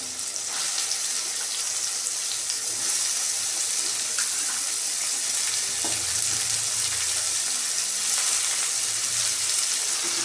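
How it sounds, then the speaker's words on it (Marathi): Green beans (shenga) frying with soft cooked tomato in a pan, a loud continuous hiss and sizzle held close, with faint occasional stirring sounds underneath. "शेंग याच्यामध्ये आपण परतून घेणार आहे टोमॅटोमध्ये"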